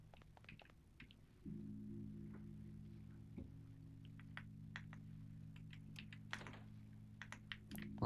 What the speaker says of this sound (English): How bad are the keyboard sounds